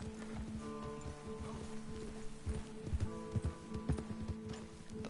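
Horse hooves clip-clop in a cowboy video game, a steady run of close, dull thuds with brief louder bunches of footfalls, set over a low droning background and faint ambient rustle.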